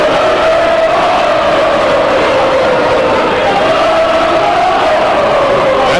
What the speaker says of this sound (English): That's the same cheer they got going.